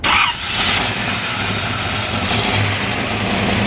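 A 1968 Chevrolet Camaro fitted with Mallory ignition cranks and fires, then settles into a loud, lumpy idle with a deep, rhythmic rumble, heard close up and without talk.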